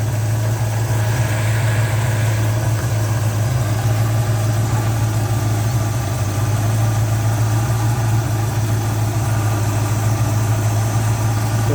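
Car engine idling during carburetor tuning, a steady low hum with even vibration that holds unchanged throughout, close and fairly loud, with no talk over it.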